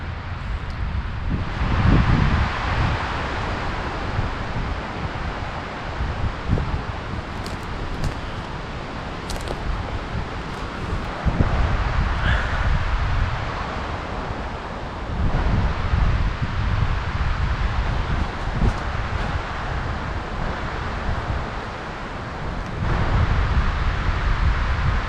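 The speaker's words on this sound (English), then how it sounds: "It's still pretty windy now as well." Strong wind gusts through a mountain campsite the morning after a storm, a loud continuous roar with rustling and microphone buffeting that swells and eases in waves; nobody speaks.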